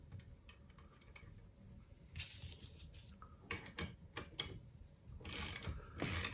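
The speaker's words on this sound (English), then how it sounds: "We're going to crank this" A ratchet wrench cranks to snug a nut on a spring mount during an installation, quiet mechanical clicking in short irregular bursts, close by.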